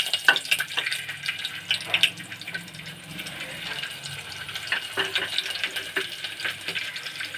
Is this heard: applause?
no